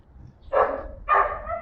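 Dogs bark in the distance: two separate woofs about half a second apart, heard alone against a quiet background.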